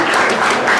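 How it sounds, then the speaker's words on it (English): Audience applause at a charity drum and music concert in Southport: a short, loud, dense burst of clapping lasting under a second. "You don't have to clap."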